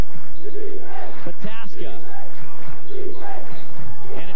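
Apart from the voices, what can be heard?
basketball cheering section standing and cheering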